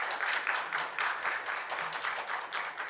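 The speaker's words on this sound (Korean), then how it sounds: "큰 박수 부탁드리겠습니다." Applause from an audience at a Korean presidential candidate's policy announcement meeting, a steady patter of clapping in rhythmic bursts, moderately distant and fairly soft.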